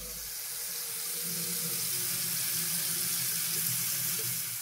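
Water pours steadily from a home shower, a continuous broadband hiss that stays even and fairly close throughout, with no talking.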